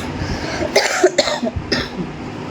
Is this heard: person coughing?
yes